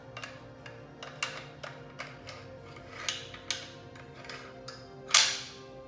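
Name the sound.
rifle bolt dropped into receiver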